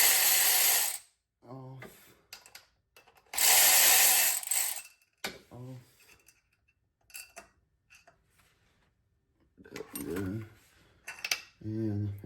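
A ratchet fitted with a 10 mm socket loosens engine bolts in quick clicking bursts, up close and repeated several times between pauses, with brief talk at points.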